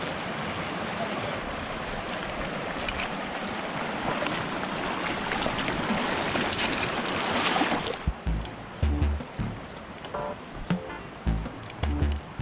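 Rushing creek water flows steadily and fairly close for about eight seconds in the High Sierras, then drops away to quieter trickling with soft footsteps and rustling.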